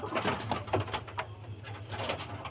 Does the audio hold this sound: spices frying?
no